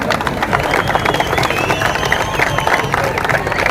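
Audience clapping and cheering at a Margazhi folk music celebration at a cultural centre in KGF, a dense burst of applause sustained loudly from start to finish.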